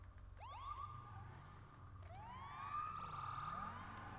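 Police car sirens wail in the video game GTA V, rising and falling sweeps repeating over a low engine rumble across the whole stretch, fairly steady in loudness.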